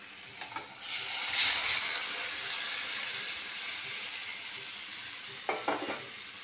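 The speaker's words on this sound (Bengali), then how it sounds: "ঝোলটা ফুটছে" Fish curry broth hits hot masala in a pan with a loud sizzling burst, then settles into a steady boiling hiss, with a few light clinks of utensils near the end.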